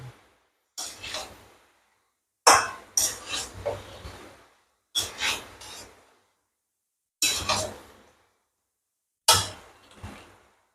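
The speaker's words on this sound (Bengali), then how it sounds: "গরম মশলা দিয়ে একটুখানি কষাবো।" Garam masala being stirred and fried in a pan with jackfruit and prawns, heard as several separate bursts of scraping and clinking from a spatula against the pan, with silent pauses between.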